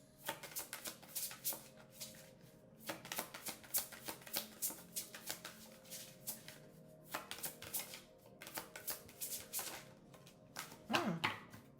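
A deck of tarot cards is shuffled by hand in rapid, crisp riffling bursts with brief pauses between them. It is close and quiet, and a voice speaks briefly near the end.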